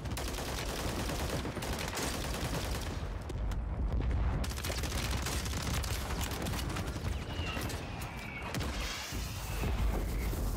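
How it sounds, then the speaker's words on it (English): Mortar strike explosions in a video game firefight, a dense, loud and continuous barrage of blasts and gunfire that fills the whole stretch with no pause and no talk. "Requesting fire mission. Target marked. Copy that. Mortar strike inbound now."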